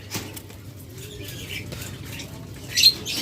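Pet lovebirds and budgerigars in a cage, with short squawks, chirps and wing flutters nearby and a louder burst of squawking near the end.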